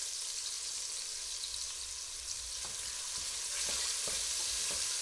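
Sizzling chicken bits and flour scraped loose while deglazing a hot pan for chicken cacciatore, a loud constant hiss with a few sharp scrapes and clicks of a utensil near the end.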